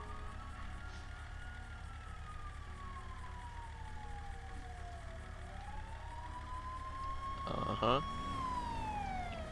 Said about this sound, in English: Pretty sure I hear sirens.